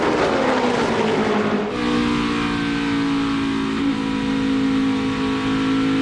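NASCAR Cup Series stock cars race past in the final laps, a loud, steady engine roar with a sustained high whine and a shifting pitch as a car swoops by on the high side.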